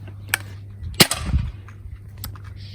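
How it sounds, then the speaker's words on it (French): A few sharp pops of a toy gun at a fairground shooting stand, one louder snap in the middle, with faint clatter and a low background hum. "Je charge le pistolet."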